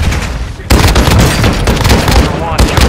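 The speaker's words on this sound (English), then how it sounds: "You are taking effective fire." Dense gunfire in Call of Duty MW II DMZ, loud rapid bursts and booming shots packed close together after a brief lull, continuing almost without pause.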